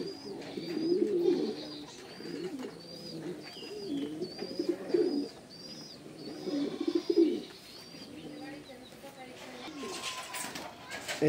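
A single pigeon gives close, repeated throaty coos in rolling bursts that ease off toward the end.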